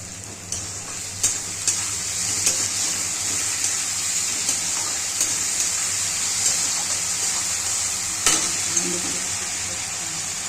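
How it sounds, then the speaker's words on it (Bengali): Potato and onion frying in a pan for chowmein, a steady close sizzle with occasional sharp stirring clicks and scrapes over about ten seconds, no talking. "আলুটা এবার একটু হালকা হালকা আলু পেঁয়াজটা ভাজা ভাজা হচ্ছে, আরেকটু ভাজবো"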